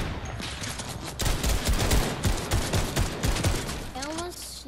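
Sniper rifle fire during a Fortnite match, several sharp cracks in quick succession over a busy, loud game mix, with rising electronic tones near the end and a player talking.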